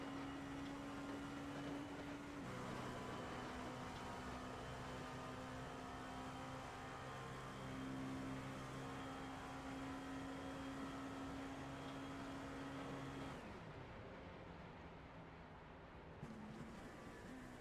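A race car in the iRacing game's endurance race at Daytona drones at full throttle down the straight, then the engine note drops sharply as the driver lifts off, a continuous steady hum fading lower near the end.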